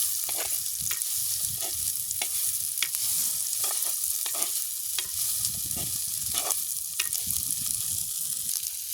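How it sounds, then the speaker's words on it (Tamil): Chickpeas and eggplant being stirred in a frying pan, a steady sizzle running throughout with repeated scraping strokes of the spoon at a close, even pace, and no talking. "கடலையோட கத்திரிக்காயும் கொடி பிறட்டுவோம் இதில் எல்லாம் கிண்டி விடுவோம்"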